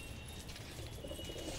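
Patiala and desi pigeons coo softly in a loft over a steady, noisy background, their low calls blending into a continuous hum.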